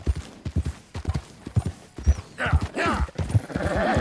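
Horse hooves clip-clop in Red Dead Redemption 2, a steady close walking rhythm that is briefly joined by a whinny or snort near the end.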